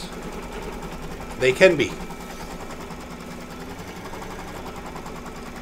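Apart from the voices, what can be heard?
embroidery machine stitching a gingerbread man mug rug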